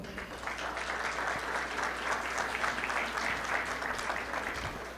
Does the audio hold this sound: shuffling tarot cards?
no